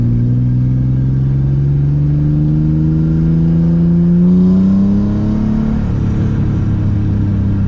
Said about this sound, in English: I don't know where I'm revving it out to.